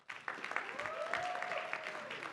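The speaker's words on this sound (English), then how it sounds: "Round of applause for all of them" Audience applause for the crew behind Zootopia 1 and 2 at a fan convention panel, a steady wash of clapping from a crowd that holds evenly for a couple of seconds, with a faint voice mixed in.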